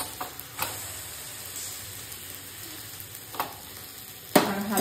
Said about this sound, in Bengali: আর এখানে ভেন্ডি ভাজাটাকে বসিয়ে দিয়েছি